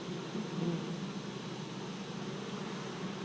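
Honey bees from a beekeeper's nuc colony hum as a steady, dense low drone, continuous and fairly close, with no voices.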